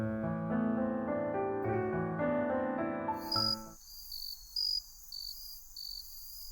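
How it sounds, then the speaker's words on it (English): Insects chirp in the Goddess of Victory: Nikke mobile game, a high, repeated trilling that enters after a fading musical passage and pulses in short, evenly spaced bursts. "The insects are already performing their song."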